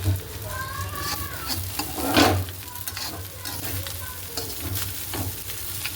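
Chow mein stir-fried in a pan, with steady sizzling and scraping, stirring strokes running throughout and one louder burst near the middle; faint voices sit in the background.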